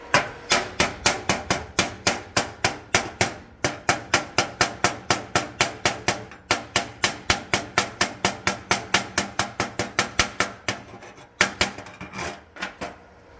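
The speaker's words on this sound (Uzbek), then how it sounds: "chap qo'l bilan shlak qoqish noqulay bo'lyapti" A hammer held in the left hand chips hard-stuck slag off a fresh weld bead, a fast run of sharp metallic taps in regular bursts, close and loud, with short pauses between rounds.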